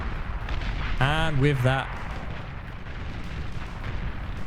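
Explosions in the real-time strategy game Beyond All Reason during a 2v2 tank battle on the Star Watcher map, a steady rumbling roar of blasts with a brief tonal burst, as a voice briefly talks over it.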